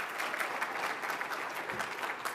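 An audience applauds at a Churchill Club event, with dense, steady clapping that fills the space throughout.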